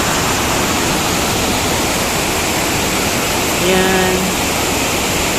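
Mag-aso Falls waterfall producing a steady, full broadband roar of rushing water throughout, with a brief voice speaking over it near the end.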